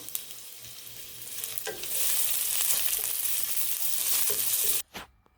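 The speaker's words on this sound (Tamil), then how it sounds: "ஒரு கொத்து கருவேப்பிலை, 4 மிளகா கிள்ளி வச்சுருக்கேன். இதை சேர்த்து இப்போ வதக்கிக்கிறேன்." Curry leaves, broken chillies, garlic and onion hit hot oil and sauté with a loud, hissing sizzle that swells and holds steady before cutting off abruptly near the end.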